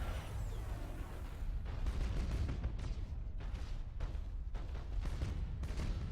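Warships in the Battlefleet Gothic: Armada space-battle game unleash a dense barrage, with continuous rumbling booms and rapid bursts of fire that swell and pulse steadily throughout, loud and close, with no voices.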